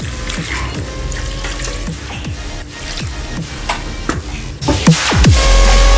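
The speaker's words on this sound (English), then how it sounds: "So now I'm going to be adding water." Water is poured into a cooking pot of Nigerian turkey sauce, giving a steady running splash with clinks and scrapes throughout, close and fairly loud, and a sharper pouring surge near the end, with no talking.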